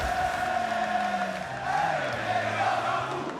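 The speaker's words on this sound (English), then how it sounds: "This crowd going nuts for K-Dop." An esports crowd at a Rocket League World Championship match between Team Dignitas and Cloud9 roars steadily after a goal, a dense continuous cheer that fills the whole moment.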